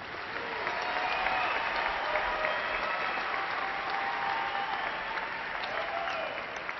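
A large audience at the Angelo State University fall commencement applauds graduates, a dense, sustained roar of clapping filling a big hall, with faint crowd murmur beneath and no pause in the applause.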